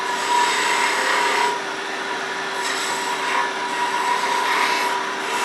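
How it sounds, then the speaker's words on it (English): Skew chisel cutting a V-shaped marking groove into turned wood on a lathe for a chess rook, a steady close scraping rasp over the lathe's constant hum, easing briefly midway then resuming. "And first I'm going to make a marking cut, a V cut here."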